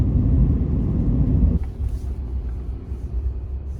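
A car driving on a snowy winter road on a family road trip makes a loud low interior rumble that drops abruptly partway through and then continues more quietly.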